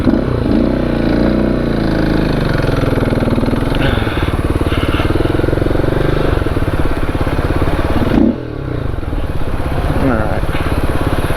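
A dual-sport motorcycle engine runs continuously and loudly up close on the TransAmerica Trail, a steady rumbling drone with slight rises and dips in pitch throughout.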